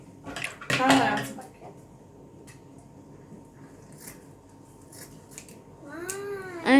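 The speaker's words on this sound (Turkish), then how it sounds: "Şunu biraz keselim. Makasımı alayım." Scissors snip through ribbon during kite-making preparations at home, with a quick burst of close cuts near the start and voices talking in the background.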